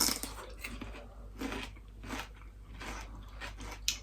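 Close, crisp bites and crunching of raw celery sticks dipped in red pepper hummus, several sharp crunches spaced through a quiet room with soft chewing between them and no talk.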